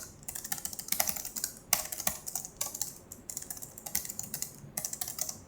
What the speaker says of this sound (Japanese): 全く同じキースイッチを搭載したエイリアンウェアはこんな感じですね